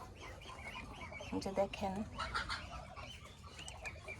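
Chinese geese in a duck shed, some sitting on eggs, give a short burst of nasal honking calls in the middle while someone talks nearby over faint background noise.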